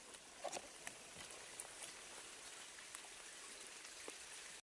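Soft, steady patter of light rain in a forest with scattered droplet taps, fairly quiet and continuous, no voices.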